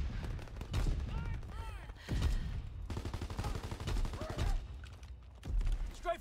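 Gunfire crackles through a Call of Duty WW2 battle, with repeated bursts of shots and explosions rising and falling across the scene alongside game voices.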